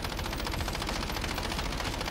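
The Ram gun in a Call of Duty game fires a dense, continuous automatic stream, loud and even from start to end with no pauses.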